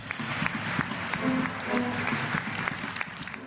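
A theatre audience gives a standing ovation after a play, with dense, sustained clapping from a large crowd filling the hall and never letting up.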